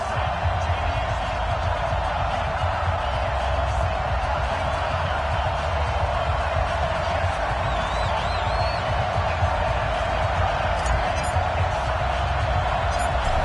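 A stadium crowd's broad, constant roar fills an American football video game before a Jacksonville Jaguars versus Indianapolis Colts matchup, loud and unbroken throughout, with commentary voices running under it.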